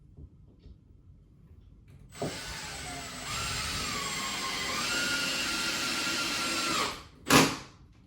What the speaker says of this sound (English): where my wall stud is at, I'm going to use these cabinet screws to hang it up